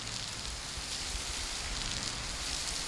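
Heavy tropical rain pours outside a church in Singapore, a dense, even hiss of water falling steadily and continuously with no voices.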